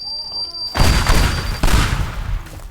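A loud, rumbling explosion in the video game Teardown, sandbox mode, bursts in suddenly, followed by a second blast and a long crackling, debris-filled roar that slowly fades.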